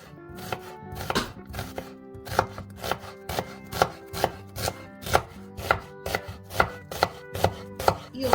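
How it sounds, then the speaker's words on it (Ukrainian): Steady knife chopping through an onion on a board, roughly two crisp cuts per second, close and clear with no talking. "беремо цибулину середнього розміру і нарізаємо її"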